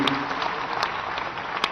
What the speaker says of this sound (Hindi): उनके लिए ताली बजाकर एक बार स्वागत करिए।